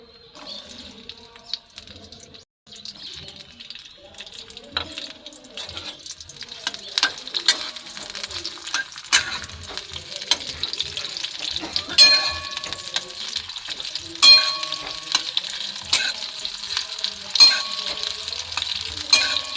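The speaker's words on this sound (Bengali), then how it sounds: "দেখুন ফ্রেন্ড আমি কড়াতে তেল দিয়েও তেলটা আমার গরম হয়ে গেছে এবার আমি এতে পেঁয়াজ দিয়ে দেবো" Sliced onions fry in hot oil in a kadai for a flat bean (shim) dish, a bright, steady sizzle that grows louder partway through, with occasional clinks and stirring scrapes close by.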